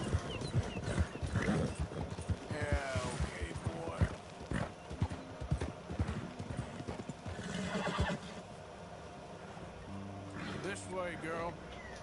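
Rhythmic clip-clop of hooves with horse whinnies and snorts from the game Red Dead Redemption, with a voice speaking intermittently over it.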